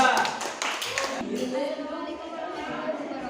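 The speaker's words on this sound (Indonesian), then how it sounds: "beri tepuk tangan dulu berdua." Short burst of clapping from a classroom audience for two student presenters, loud at first and then thinning out, with voices and chatter continuing underneath.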